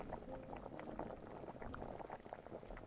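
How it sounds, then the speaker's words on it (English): Food bubbles in a pot inside the video game Spirit City: Lofi Sessions, a steady, even simmer of soft bubbling that carries on without a break. No one speaks over it. "We got some food bubbling."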